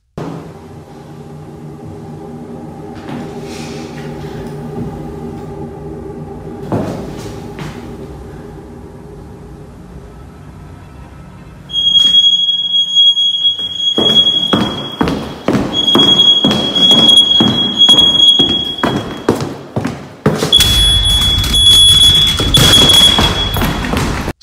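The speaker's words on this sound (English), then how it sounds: "followed by the abrupt blaring of a smoke detector before it crashed to the ground" A smoke detector alarm blares suddenly in a high steady tone. It sounds in sustained bursts with brief gaps, loud and close, over heavy thumps and rattling after a quieter stretch of low thuds.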